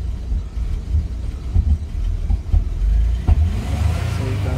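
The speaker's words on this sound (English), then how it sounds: "So you can see the vehicle is running now." A 2004 Toyota Avalon engine running after a crank-no-start fault from a bad ground, a low steady rumble with small surges and a brief sharp knock near the end, heard up close with no speech.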